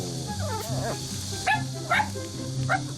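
A small dog gives a few high, yappy barks in quick succession while people talk nearby.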